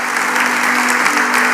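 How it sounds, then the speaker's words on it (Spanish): A church congregation applauds during a worship service, dense continuous clapping from many hands filling the room, loud and steady throughout with no voices breaking through. "Le damos un fuerte aplauso al Señor antes de sentarnos."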